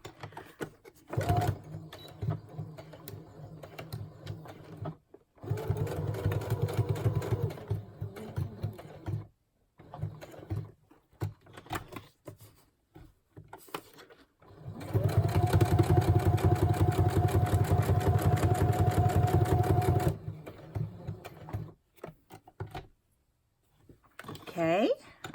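A sewing machine stitches a craft tag in two loud steady runs, one short and one longer, with pauses and a voice talking between them.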